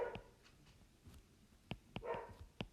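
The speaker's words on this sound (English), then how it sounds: "that dog is so loud" A dog barking at a distance, several faint short yips and barks in an uneven rhythm over low indoor background noise, with no talk.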